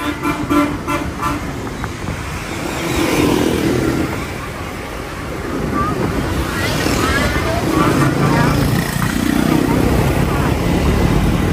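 Street traffic with buses and other vehicles rumbling past, engines surging in waves and a horn tooting, while a person talks nearby.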